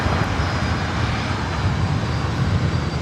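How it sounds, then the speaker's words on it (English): Philippine Airlines Airbus A330-300 on its takeoff roll from the north side at LAX, a brief, steady, loud low rumble of jet engines with no voices. "confirming north side takeoff for the Philippine A330-300."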